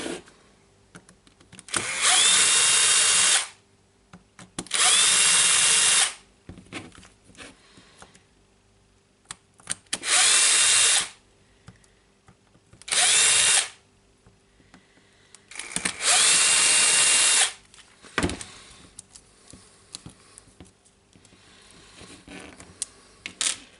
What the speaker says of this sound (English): So I think I will unscrew the screws here.